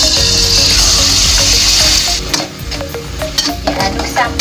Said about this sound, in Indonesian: Diaduk sampai wangi.